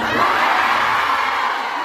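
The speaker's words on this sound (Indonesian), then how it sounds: "Karena terlalu banyak orang teriakan di sini." A large crowd at an Islamic religious gathering in Hong Kong shouts and cheers together in a dense, loud, sustained roar that continues without a break.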